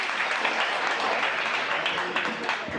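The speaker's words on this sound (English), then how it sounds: "Clap for that." Audience applause after a raffle announcement for a counter assault class at a talk, a steady dense wash of clapping throughout at moderate loudness.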